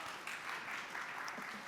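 Audience applause after a lecture by a media artist, a dense, even wash of clapping that holds steady throughout, fairly quiet and without speech over it.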